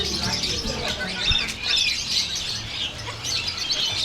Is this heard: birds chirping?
yes